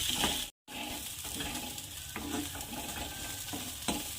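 Spices and chilli powder crackle and sizzle steadily in hot oil for a tomato kadhi tempering, a continuous frying hiss with small pops and a brief cut of silence early on.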